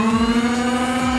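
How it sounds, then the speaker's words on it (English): Flywheels of a Nerf Roblox Pulse Laster blaster spin up in a short, loud, steady whine with a bright sustained tone, heard up close and alone for just over a second. "So I just rev the blaster"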